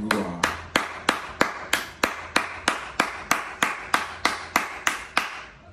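One person claps hands in a steady, even rhythm, about fifteen sharp, close, loud claps spaced roughly a third of a second apart, alone with no talk.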